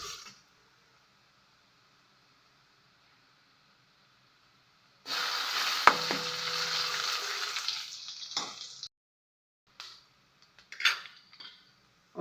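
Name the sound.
onions sautéing in a pan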